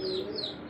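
Pigeons at a pigeon farm cooing softly nearby, a brief low throaty coo with a faint higher chirp layered over it.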